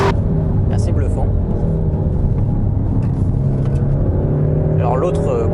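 A Peugeot 308 GTi Sport is driven on a dry track, its engine droning steadily under the car's road noise, with someone speaking over it throughout.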